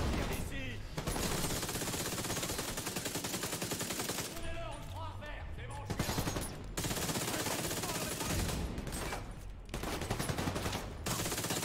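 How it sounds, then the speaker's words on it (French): Rapid bursts of gunfire at targets in The Division 2, loud and close, with short pauses between volleys and a voice talking at times. "Alors, je tire sur les cibles."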